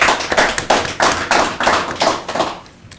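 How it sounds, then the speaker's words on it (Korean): A church congregation applauds in thanks during a service, with steady, dense clapping that stays loud and close for most of the moment before tapering off. "다시 한번 감사의 박수 한번 보내드리겠습니다."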